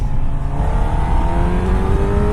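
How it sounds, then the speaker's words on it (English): A 2017 Honda CBR1000RR sport motorcycle engine revs steadily in third gear with a rising throaty drone, loud and continuous, heard from close by with wind rush and no speech. "I'm judging how many revs I'm pulling by the noise of the engine"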